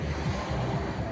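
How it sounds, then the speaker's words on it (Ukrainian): A small motor boat travels on the water near a river lock, heard as a steady low rumble mixed with wind and lapping water. "Машинка на воді."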